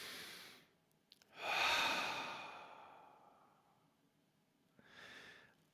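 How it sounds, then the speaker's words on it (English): A slow, deep breath, drawn in and then released in a long, audible exhale, followed by a softer breath out. Close and quiet, with no talk over it. "So take a deep breath with me."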